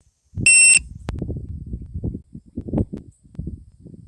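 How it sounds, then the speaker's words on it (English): A short burst of high, rapid electronic beeping stands out near the start, followed by a sharp click and a low rumbling hum that carries on underneath. "Sorry about the annoying beeps."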